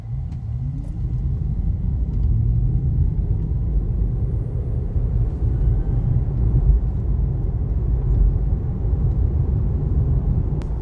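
A Tesla electric car towing a one-ton load accelerates from a standstill to around 80, with a steady low rumble of road and drivetrain noise that holds at a constant level throughout, and no talk.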